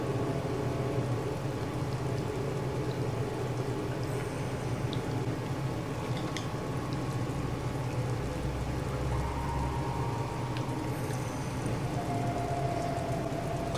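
Steady, soft patter of rain dripping onto a raincoat in the video game Little Nightmares, a continuous even wash with a few faint higher drips and no speech.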